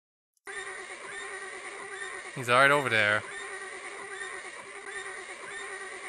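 A horse whinnies in a video game about finding a horse of a different color, one clear neigh of about a second rising over steady background game audio. Someone speaks briefly in the clip.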